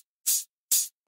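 Two crisp, bright hi-hat hits from a sample library during song production, evenly spaced with silence between them, close and clean.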